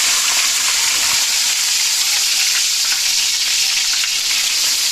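Chicken feet frying in hot oil in an outdoor cooking setup, a steady loud sizzle and crackle throughout, with no talking.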